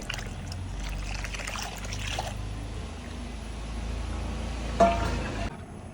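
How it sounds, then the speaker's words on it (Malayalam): Water being poured into a pot of simmering puli inji, a Kerala tamarind and ginger curry, as a steady pour for about five seconds that then cuts off, with no talking. "അപ്പോൾ കുറച്ച് വെള്ളം കൂടി ഒഴിച്ചു കൊടുക്കണ്ടേ"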